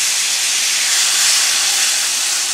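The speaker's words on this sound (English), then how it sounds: "Now you want to get this Marsala in here. Kind of in a swirl." Marsala wine poured into a hot pan, giving a steady, loud, bright hiss that holds evenly from start to finish with no talking.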